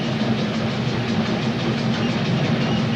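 Canadian Pacific steam locomotive train running, heard as a close, steady rumble of wheels and machinery for a few seconds without any talk.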